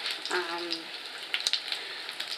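Oil sizzles steadily in a pan as frozen chicken nuggets fry, a bright hiss dotted with small pops and crackles, close up, with a faint voice-like murmur briefly underneath.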